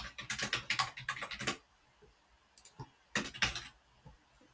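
Rapid typing on a computer keyboard, with a dense burst of close, crisp key clicks, a short pause with a few scattered taps, then another quick flurry.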